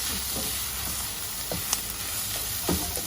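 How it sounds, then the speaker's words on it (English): Minced fish puttu sizzles steadily in a pan as pepper and cumin powder are mixed in, giving a dense, close frying hiss broken by a few soft stirring scrapes and taps, with no voices. "this is little pepper and the zira powder that I added. Give it a nice mix"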